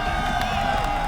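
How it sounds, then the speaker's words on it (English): An arena crowd at the HCS New Orleans 2018 Halo esports grand finals cheers and shouts in a continuous, steady roar for a brief moment. "Ladies and gentlemen in the crowd in New Orleans, make some noise for these 2 teams."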